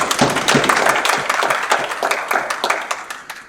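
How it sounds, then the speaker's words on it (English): A modest audience at a customer experience management session gives a speaker a round of applause, a close, scattered clatter of clapping that stays fairly even and then begins to thin out. "Let's have a round of applause"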